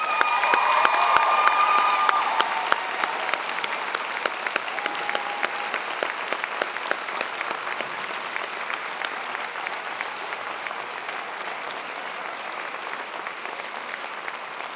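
Sustained applause from an audience at a graduation convocation ceremony, dense steady clapping that fills the whole stretch, loudest at the start and slowly thinning but continuing throughout, with faint crowd murmur underneath.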